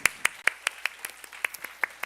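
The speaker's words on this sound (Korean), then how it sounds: "서로를 향해서도 박수하겠습니다." Members of a middle-school church worship group clap for one another, about a dozen evenly paced, crisp hand claps in a steady rhythm, fairly quiet in an otherwise still room.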